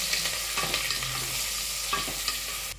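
Two sliced onions going into a pressure cooker to sauté for a vegetable pulao, giving a steady broadband sizzle with occasional stirring scrapes, close and fairly quiet, no talking.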